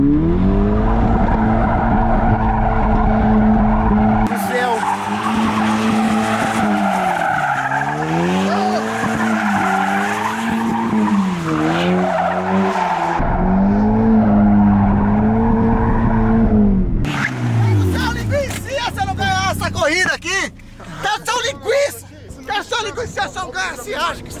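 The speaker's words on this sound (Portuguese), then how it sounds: "Mano, agora eu vou fazer até um drift de comemoração" Car drifting in a celebratory skid after a street race, with loud wavering engine drone and squealing tires sweeping up and down for several seconds, then chaotic scraping and crowd noise as people shout nearby.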